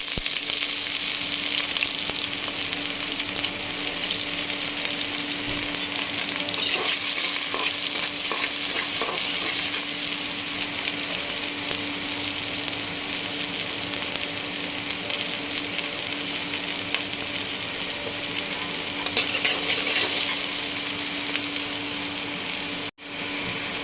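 Onion and green chili hit a pan of frying fish curry (fish bhuna), producing a loud, continuous hiss of sizzling oil with occasional stirring, steady throughout.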